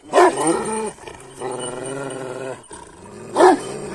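A large herding dog barks and growls at close range in a rural farmyard, with a deep, harsh bark at the start and end and a rough, sustained growl in between, loud and alone.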